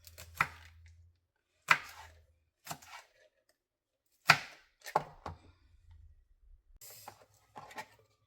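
Green chili being finely chopped with a knife, several sharp separate thuds of the blade striking the cutting board, spaced out irregularly with quiet gaps and a few softer cuts.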